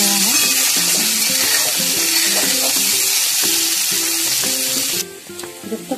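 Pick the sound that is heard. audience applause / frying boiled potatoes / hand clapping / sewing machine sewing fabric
frying boiled potatoes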